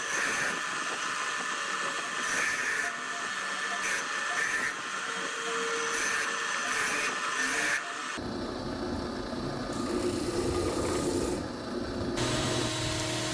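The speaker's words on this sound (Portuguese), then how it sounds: "eu utilizo uma lixadeira fixa para nivelar as partes inferiores e superiores da gaveta" Steady abrasive rasping of a stationary sander levelling wooden drawer parts for a handmade chessboard, continuous and fairly close, with a shift in tone partway through as pressure changes.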